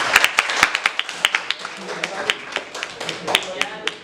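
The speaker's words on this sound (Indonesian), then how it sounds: "Silakan beri tepuk tangan buat teman-teman." A scattered round of hand clapping from a small group after a classroom presentation, sharp irregular claps filling the room, with some voices murmuring underneath.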